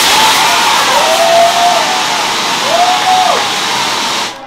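Dense, steady audience applause fills a glass stove launch event for Sinar Raya Yogyakarta by Ivan Gunawan, loud and continuous throughout before fading out at the very end.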